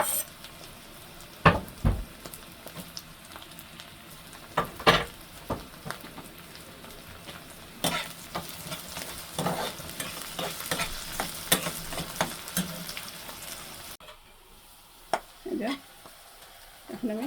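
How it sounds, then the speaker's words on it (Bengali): Garlic and onions fry in a pan for matar shak, a soft sizzle under repeated scraping spoon strokes that come in separate bursts, with a quieter stretch near the end. "এখন আমি রসুন দিয়ে দেবো।"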